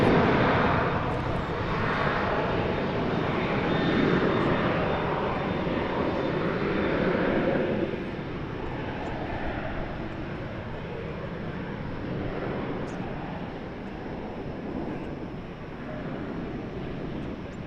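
A jet airliner rolls down a long runway on takeoff at DFW Airport, a steady broadband engine roar held loud for about eight seconds, then easing slightly as it continues with light wind noise.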